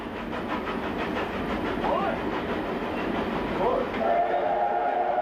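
Steam locomotive 3801, built at Clyde Engineering, rumbles along with a steady rolling rail clatter, and a drawn-out whistle-like tone rises near the end, with a voice speaking over it.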